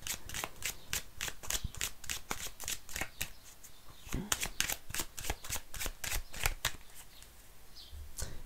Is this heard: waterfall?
no